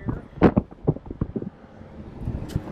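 Wind gusting across a microphone outdoors at a park in Utah makes uneven low rumbles and buffeting thumps, with stronger bursts early and calmer stretches between them.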